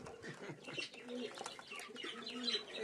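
Giribaz Madrasi pigeons coo softly at close range in a quiet setting, with low repeated burbling calls and faint chirps.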